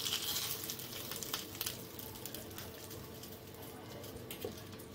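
Mustard seeds, curry leaves and dried chillies sizzle and crackle steadily in hot oil for a South Indian coconut chutney tempering, a dense close frying hiss with a few sharper pops, no voices.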